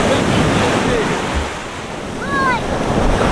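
Ocean surf rolling onto a beach, a steady loud wash with wind buffeting the microphone and a faint voice briefly in the background.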